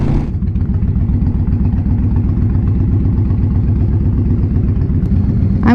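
Honda Fury motorcycle engine idling steadily up close, a loud continuous low rumble with a regular pulsing beat, alone with no talk.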